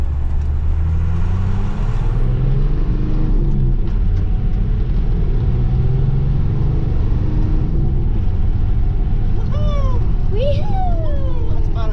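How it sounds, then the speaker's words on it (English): A GMC truck with a 12-valve Cummins diesel and a Borg Warner K27 turbo, out on a dirt road, gives a loud, steady engine rumble with rising whistling tones toward the end, and voices come through underneath. "That turbo's got a little bit of a whine to it, which is all right with me."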